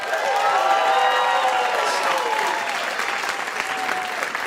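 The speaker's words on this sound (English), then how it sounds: "Let's give them a round of applause." A game show audience claps loudly in a sustained burst with some cheering mixed in. Faint talk and tonal sounds run beneath it, and the clapping eases slightly toward the end.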